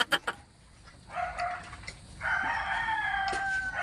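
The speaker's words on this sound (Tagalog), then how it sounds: "Ang kala ko nagpatayan na yung mga manok." Chickens cluck in a few short bursts, then a rooster crows twice in long drawn-out calls, fairly close in an outdoor setting with no talk.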